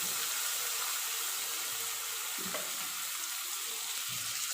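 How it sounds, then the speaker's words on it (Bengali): Flat bean paste frying in a pan with cumin, ground cumin and a little sugar gives a steady soft sizzle and hiss, with one dull knock of a utensil partway through. "এবার দেখো সিম বাটাটা আমি দিয়ে দিচ্ছি।"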